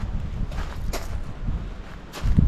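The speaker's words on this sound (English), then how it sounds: "the gusts today are literally 40 miles an hour" Outdoors, wind gusts at about 40 mph roar against the microphone and a light stand during an on-location shoot, a low rumbling buffet that swells and eases, growing strongest at the end.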